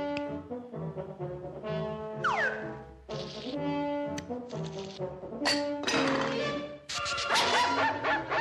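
Guard dog barking in the Polish dub of the cartoon Casper, a run of woofs and yips with whimpering, set against dramatic orchestral music and sound effects.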